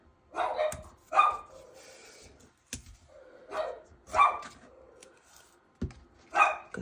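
A pet dog barks in bursts indoors while someone does crafting work with tape, three or four clusters of sharp, fairly close barks spread across the stretch with quiet gaps between.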